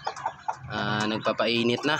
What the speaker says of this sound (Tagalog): Yan yung ating mga alagang manok.